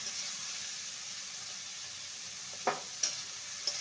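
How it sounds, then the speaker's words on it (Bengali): Bottle gourd with cumin powder being stirred in a pan: a faint, steady sizzle underlies a few soft scraping clicks from the utensil near the end. "ভালো করে নেড়ে নিয়ে লো টু মিডিয়ামে রেখে"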